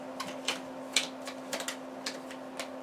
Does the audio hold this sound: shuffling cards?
yes